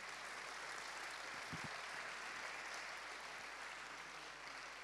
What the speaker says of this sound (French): On peut les applaudir pour leur intervention.